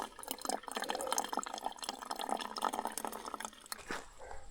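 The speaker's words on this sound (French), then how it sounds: "Ça, c'est la rivière du Sourd." The Rivière du Sourd flows in a close, steady rush of water with splashy, bubbling texture, fairly faint and without talk.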